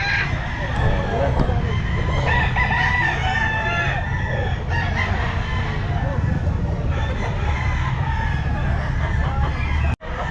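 A rooster crows amid the steady din of a busy gamefowl pet market, with voices murmuring throughout and a brief drop in the noise near the end.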